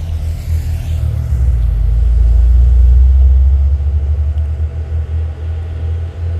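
A heavily loaded orange truck rumbles past close by on a hill in heavy rain, its deep engine drone swelling to a peak and then slowly fading as it moves away.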